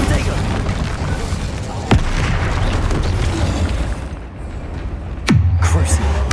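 Spells go off in Hogwarts Legacy, including the Incendio fire spell, with a couple of sharp booming bursts over rumbling combat noise. A short lull comes before a final heavy blast, and a voice is heard in the mix.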